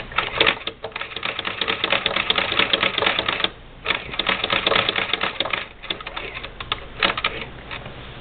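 A Singer Model 20 toy sewing machine stitches a quilt seam, giving a fast, rattling, clattery whir in bursts with brief pauses between runs, close and fairly loud.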